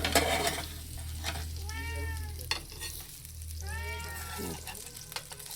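Dosa cooks on a hot griddle with a low, continuous sizzle, while a cat meows loudly several times nearby over the cooking noise.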